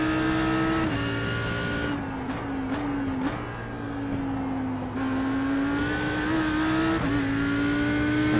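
An Audi R8 GT3 race car in a racing video game at the Bathurst circuit accelerates hard, its loud, close engine note climbing steadily with several sharp dips at upshifts, running continuously without a break.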